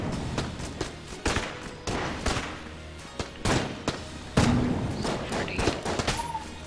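Rapid bursts of gunfire and bullet impacts from the bullet-hell game Enter the Gungeon, loud and dense, with repeated sharp shots and thuds crowding the whole stretch.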